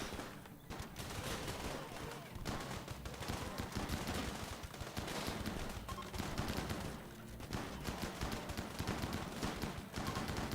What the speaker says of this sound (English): Man, those kids got a lot of shotguns.